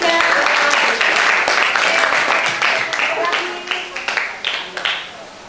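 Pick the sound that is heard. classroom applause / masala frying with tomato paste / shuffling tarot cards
classroom applause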